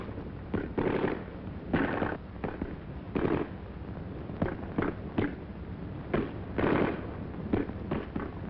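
Wartime gunfire crackles through a street battle on an old archival newsreel, with repeated sharp bursts and shots over a constant noisy, muffled soundtrack.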